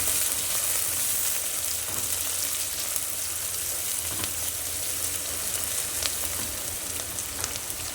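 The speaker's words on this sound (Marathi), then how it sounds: "आणि हे व्यवस्थित परतून घ्यायचे।" Curry leaves and onion sauté in a hot pan with a steady, close, even sizzle that carries on without pause and with no voices.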